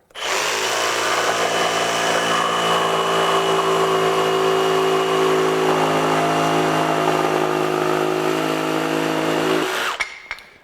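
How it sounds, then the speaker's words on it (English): A Ryobi 18V ONE+ HP brushless jigsaw, model PBLJS01B on a 4 amp-hour battery, cuts through 2x dimensional lumber with a loud, steady, close buzzing whine for about ten seconds before it stops abruptly. "Let's just see how it rips through some 2x-dimensional lumber."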